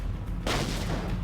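A grenade explodes in a gory video game boss battle in a garage, a sudden loud broadband blast that cuts in partway through and rumbles on to the end, with no talk over it.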